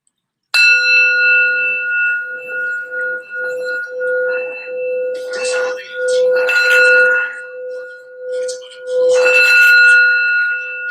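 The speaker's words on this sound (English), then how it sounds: "I forgot the sound bell." A small sound bell used in a tarot reading rings out with a clear sustained tone, struck several times so the shimmering peals overlap and decay, close and loud.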